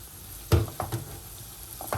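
Capsicum being sautéed in a pan with other vegetables for stuffed eggplant, a soft sizzle broken by a few distinct stirring clatters, quiet and close.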